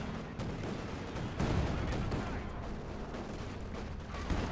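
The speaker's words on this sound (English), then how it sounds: "counterclock with the Flak Panzer, ripping into them." Flak Panzer gunfire from a Company of Heroes 2 match forms a continuous, rumbling stream of rapid shots mixed with battle noise, moderately loud and steady throughout.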